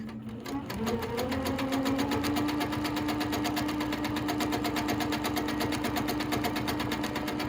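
Sewing machine running steadily through free motion quilting of hook feathers, a continuous fast rhythmic stitching hum that stays close and loud for the whole stretch after a brief softer start.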